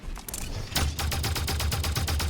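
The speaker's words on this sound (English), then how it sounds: "A unique suppressor. It's a faster rate of fire and a reduced recoil." Suppressed rifle fire in the Halo 5 video game: after a few scattered shots comes a rapid, even burst of muffled cracks with clicking mechanical action, fairly close and with no talk over it.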